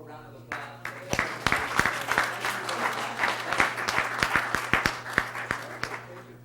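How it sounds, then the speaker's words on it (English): An audience at a city council meeting breaks into scattered applause, a burst of claps building to a moderate round and tapering off, over a steady room hum with some talk. "Can we give the Red Cross one more round of applause?"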